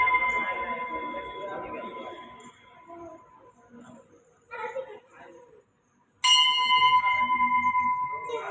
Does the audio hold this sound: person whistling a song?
no